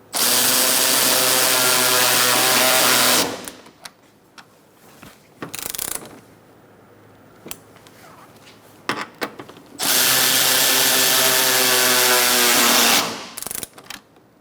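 Power tool tightening bolts on a 2014-2019 Kia Soul grille: two loud sustained whirring bursts several seconds long, separated by quieter clicks and handling noises.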